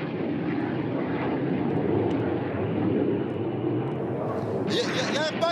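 Military ground-attack aircraft passing low overhead during French army desert training, a loud continuous engine roar that holds steady and then shifts toward a higher, whining tone as it goes by.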